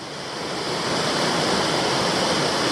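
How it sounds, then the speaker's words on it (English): A small waterfall of about a 4-metre drop into a pool, on a Tasmanian hiking track, rushes steadily nearby, a broad hissing roar of falling water that swells slightly at the start and then holds constant. "I've hit another really cute little waterfall just below the track."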